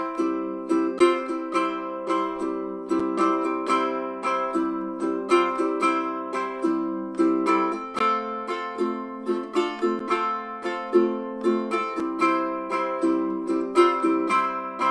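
A ukulele strums chords in a steady, bouncy island rhythm, bright and close, played alone without any voice.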